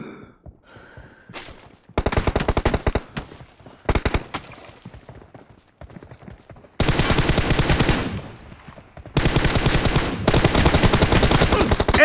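Automatic rifle fire rattles through a team deathmatch in PUBG Mobile, with loud, close sustained bursts broken by short pauses and a few single shots; no voices come through.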